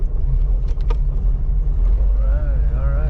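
A 1985 Oldsmobile Cutlass with a brand new carburetor rumbles low and steady while driving around the block, a constant close engine drone with a voice speaking over it.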